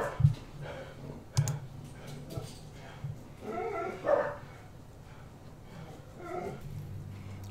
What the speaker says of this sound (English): Shorty's just backing her up because he has no idea what she's barking at